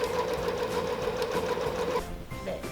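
A domestic sewing machine stitches bias binding onto fabric edges, with a fast, even mechanical whirr up close that slows and stops near the end.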